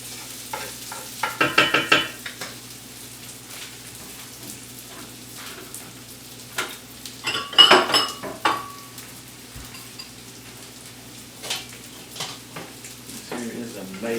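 Cooked steak gets scraped from a hot pan into a bowl: two loud bursts of metal utensil scraping and clatter stand out over a low, constant sizzle, with lighter knocks in between.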